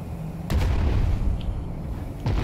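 Airship cannons firing in the video game Worlds Adrift, two heavy booming shots with a rumbling tail between them, loud and close, no talk over them.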